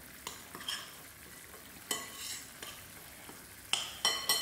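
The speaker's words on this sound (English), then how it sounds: "add it to the other ingredients, and stir this very well." A spoon stirs crushed almonds into soji ball ingredients in a bowl, giving soft scraping strokes with a few sharp clinks against the dish, quiet and close with no talking.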